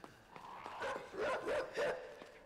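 Dogs in the video game Inside, a quick run of muffled, mid-distance barks and yips, about five or six bursts in a couple of seconds, fairly faint and without talk.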